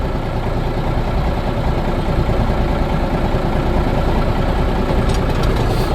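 A 1978 Oshkosh truck engine idles close by with a loud, steady low rumble and a constant mechanical throb that runs unbroken throughout, with no talking.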